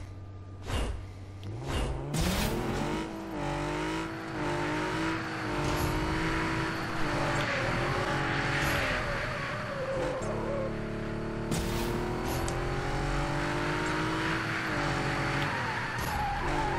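A race car in the Super Street game, its engine revving and climbing through gears with rising and falling whine, tire squeals and skids, loud and close throughout, with a voice talking over it.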